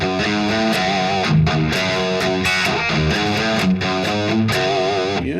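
Electric guitar playing a riff at a slow pace, punchy funky picked notes with percussive muted scratches, loud and upfront with no voices.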